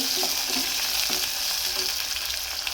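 Tomatoes sizzle and fry in an oily pan for a vegetable gravy, a dense continuous crackle with faint stirring scrapes, close and steady, nobody speaking.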